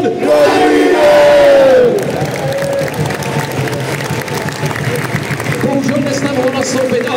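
An arena crowd at an ice hockey trophy and medal presentation roars and cheers loudly at first, then settles into sustained crowd noise beneath an announcer calling out a player's name.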